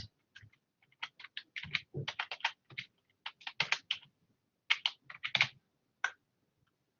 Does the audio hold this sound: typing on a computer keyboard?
yes